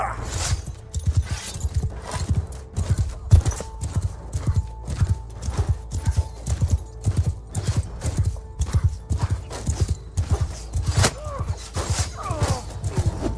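Cavalry horses galloping in the video game Mount & Blade 2: Bannerlord, a steady rapid drumming of many hooves with occasional neighs, loud and continuous throughout.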